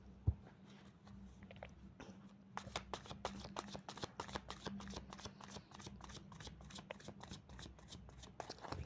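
Tarot cards are shuffled by hand in quick, close, rhythmic riffles and soft slaps, faint overall, starting after a brief quiet pause with a single tap.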